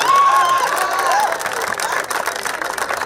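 Crowd applauding and cheering at a day-night cricket final in Bihar, a loud continuous wash of clapping and shouting voices, with a whistle-like tone early on before the cheering thins slightly.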